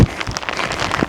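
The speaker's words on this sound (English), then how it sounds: "It's raining, guys." Rain patters steadily on a tent pitched in strong wind by remote lochans, a dense, close hiss with faint gusts buffeting the fabric.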